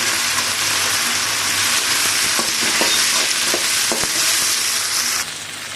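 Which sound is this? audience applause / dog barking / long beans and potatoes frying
long beans and potatoes frying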